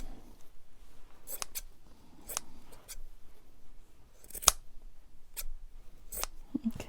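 Scissors snip through lace scraps in quiet, sharp clicks, spaced irregularly with pauses between cuts, close and fairly faint.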